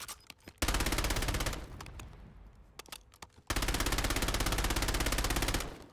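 Kogot firing in Warzone with heavy recoil: two sustained, loud full-auto bursts of rapid, evenly spaced shots, broken by a quieter gap holding a few isolated cracks.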